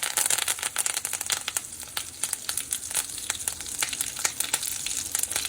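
Dense crackling sizzle of curry leaves dropped into hot oil, steady and close, with sharp pops scattered throughout and no voices.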